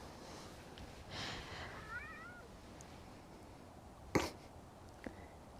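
A male cat in a home craft room gives a brief, faint wavering meow, distressed in tone, amid quiet room noise and a sharp knock.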